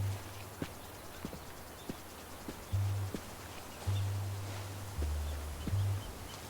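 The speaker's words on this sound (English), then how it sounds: "I was gonna say I hear footsteps, but I bet it's just a goat." Goat walking in the Book of Travels video game: soft, scattered hoof taps at an irregular pace, faint and fairly close, over quiet ambience with low tonal hums.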